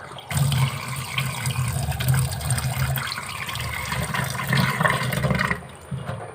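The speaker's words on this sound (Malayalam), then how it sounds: "ഇത്തിരി വെള്ളം ഒഴിച്ചിടാം" A little water pours into a pan of jackfruit curry, making a close, continuous gushing splash that holds for several seconds and then tapers off.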